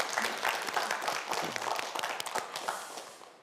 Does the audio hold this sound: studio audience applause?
yes